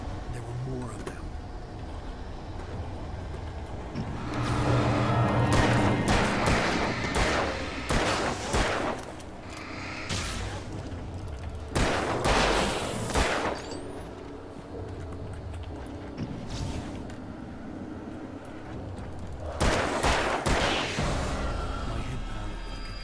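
Gunfire in a video game at a shooting range: repeated bursts of shots and booming reports over a steady rumbling background, with a voice talking throughout.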